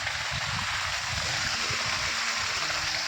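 Small trickle of water flowing from a weak pump motor beside a stepwell on a farm, a steady close splashing hiss running continuously and fairly loud.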